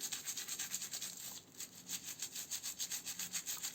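A brush scrubs between the combs of a safety razor in quick, even back-and-forth strokes, a soft hissing rub that repeats steadily and sounds close and fairly quiet.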